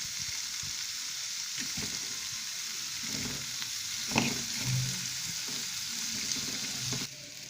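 Salted onions sauté until golden in a pan for Tamil garlic kuzhambu, with a continuous close sizzle and occasional spoon stirs and scrapes, no talking.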